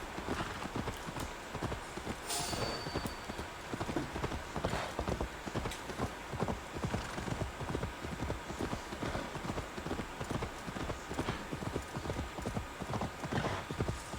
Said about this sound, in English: It's forever for this horse to get going, I swear.